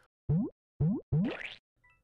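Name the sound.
Super Mario inspired sound effects in video game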